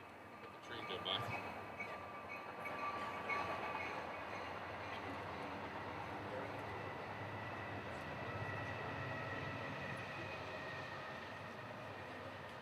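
A train rolls past at a steady distance, a continuous broad rumble with faint rail clatter sustained for the whole stretch at moderate level, no talk over it.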